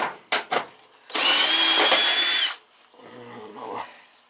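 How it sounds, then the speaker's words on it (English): A power drill whirs loudly and steadily for about a second and a half during a 40-gallon gas water heater replacement, preceded by a few sharp knocks and followed by quieter rattling and handling noise. "Another drill."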